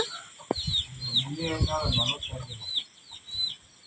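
A hen that has just hatched a brood clucks in a low, broken run, close by, while high chick peeps chirp repeatedly above it.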